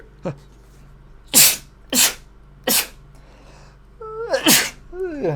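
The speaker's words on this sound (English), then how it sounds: "I told you I'd be sneezing today." A man sneezes four times in quick succession, each a sharp, loud burst a second or so apart, followed by a strained, vocal groan and breathy exhale close to the microphone.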